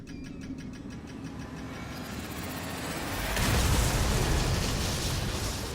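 An explosive charge blows open a gate in the stealth game Dishonored, a deep rumbling boom that swells midway through and lingers as a loud roar over steady game ambience, with no talk.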